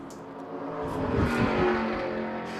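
A McLaren 570 race car spins during an endurance race round, a mid-distance engine roar rising and falling with a brief tyre squeal, no talk.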